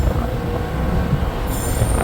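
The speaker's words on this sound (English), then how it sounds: "this train right now is actually heading west" A Union Pacific freight train passes close by, its wheels squealing and rumbling steadily over the rail with a rising hiss near the end; no one speaks.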